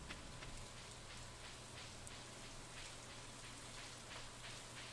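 Steady rain falls in Stardew Valley, an even hiss of drops with faint ticks spread across the whole clip and a low background hum, no voices over it.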